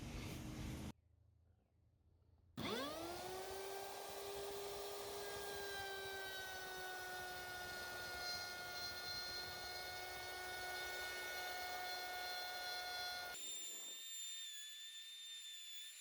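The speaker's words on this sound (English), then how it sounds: "I just finished routing out the last hatch, the big hatch." A router cuts out a large hatch opening in a jon boat being converted to a skiff, spinning up after a brief pause to a loud steady whine that holds for about ten seconds, then cuts off abruptly.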